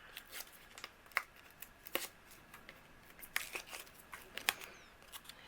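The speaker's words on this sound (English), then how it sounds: "so we're just going to remove the release paper." Release paper is peeled off foam tape on a handmade card, giving quiet, close crackly ticks and short papery snaps spaced irregularly, with no talking.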